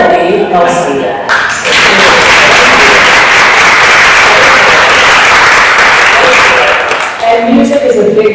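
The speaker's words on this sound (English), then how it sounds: "Another round of applause" Loud, sustained applause from a large audience at a Sunday spiritual center service, building quickly and holding steady for several seconds with dense, continuous clapping.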